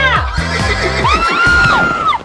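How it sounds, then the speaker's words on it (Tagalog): A horse whinnies loudly in one long, drawn-out neigh while running, with a busy, low-pitched background underneath it. "Ayan, tumatakbo na yung kabayo!"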